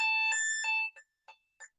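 A medical alarm base unit sounds its activation alarm: several sustained electronic tones, then three short chirps spaced evenly, clear and close with no voices.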